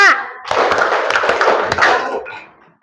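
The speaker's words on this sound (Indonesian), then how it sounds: "Tepuk 5" After a brief voice, a group in a classroom coaching session bursts into loud unison clapping, a dense clatter of overlapping hand claps lasting about a second and a half before fading away.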